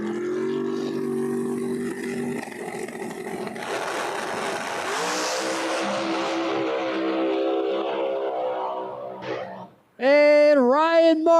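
Two no-prep drag race cars with tire shake roar down the track at an Epping, New Hampshire event, loud harmonic engine drone rising with revs, then a short dip before a sharp new wail of engine rising and falling.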